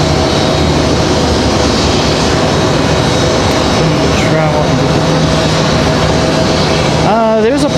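Southwest Boeing 737 MAX 9 arriving from Dallas at Raleigh-Durham International, a loud continuous jet engine roar with a steady whine throughout and a brief warbling sweep near the end.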